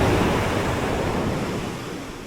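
Rough sea waves break continuously after the new moon, a dense, loud wash of surf with steady roar and no voices.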